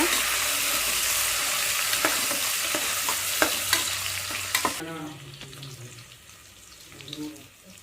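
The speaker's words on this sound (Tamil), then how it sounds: "புதினா இலை, காரத்துக்கு தகுந்த மாதிரி வரமிளகாய், மிக்ஸ் பண்ணிக்கலாங்க" Mint leaves and dried red chillies stirred together as they fry in a pan, with a steady broadband sizzle and scattered spoon scrapes that quiet down around the midpoint, leaving fainter crackling and clinks.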